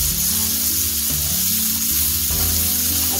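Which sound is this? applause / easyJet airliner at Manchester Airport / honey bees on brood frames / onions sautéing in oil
onions sautéing in oil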